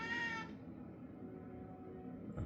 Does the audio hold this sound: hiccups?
no